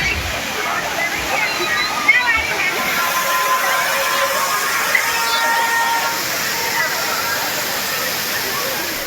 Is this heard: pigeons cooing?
no